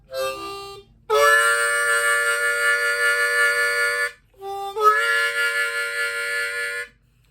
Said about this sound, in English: do the vibrato on the 3-4 draw double stop and the 4-5 double stop